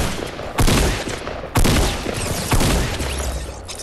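Video game gunfire cracks out in three loud, sharp bursts about a second apart, each followed by a brief echoing tail, close and dominant with no voices.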